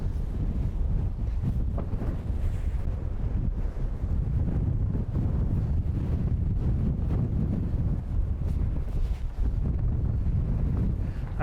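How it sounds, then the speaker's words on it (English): Steady wind roars across the microphone at a beach, with low rumbling buffets and gusts holding loud and constant throughout, no voices heard. "Yeah, it's a little windy."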